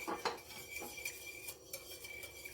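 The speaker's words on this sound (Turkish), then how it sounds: "Şöyle güzelce karıştırıyorum." A spoon stirs an olive oil sauce in a large bowl, giving light, uneven clinks and scrapes against the bowl over a few seconds. No one speaks.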